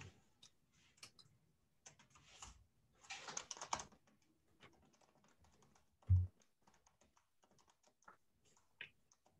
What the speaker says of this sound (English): My keyboard seems to be not working.